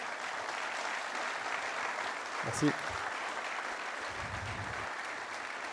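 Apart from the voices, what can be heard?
audience applauding themselves at an anniversary event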